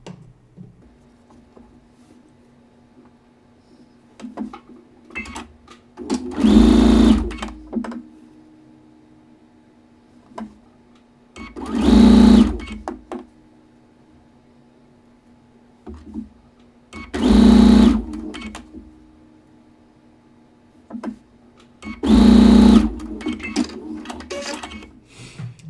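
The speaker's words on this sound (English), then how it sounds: "Let's get sewing." A sewing machine stitches quilt log cabin blocks in four short bursts of rapid whirring, each a few seconds long, separated by quiet pauses filled with faint handling of fabric.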